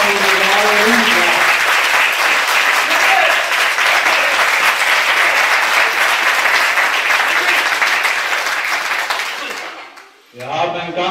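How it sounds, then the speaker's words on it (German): Loud, sustained applause for two boxers at a boxing event, running unbroken for about ten seconds before cutting off, then a voice begins. "nochmal Applaus für beide Boxer und die Lara Lindner"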